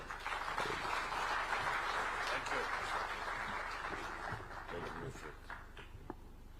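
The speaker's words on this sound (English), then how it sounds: "Let's welcome him with a clap." Audience applause welcoming the International Chamber of Commerce chairperson at the World Chambers Federation Africa Summit in Nairobi, a steady dense wash of clapping lasting several seconds that slowly thins toward the end.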